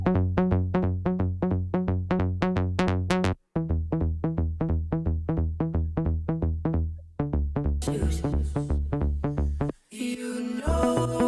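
A synth lead melody from a remix built in Ableton plays as a bright, buzzy run of rapid repeated notes, loud and alone, with brief gaps and a shift to denser sound near the end.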